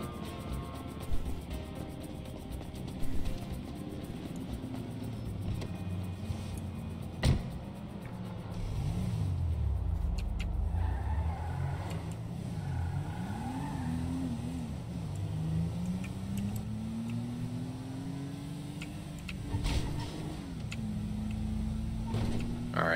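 A car in the video game Grand Theft Auto Online starts and drives off, its engine droning low and steady, then revving up and down through several rises in pitch, fairly quiet with no talking.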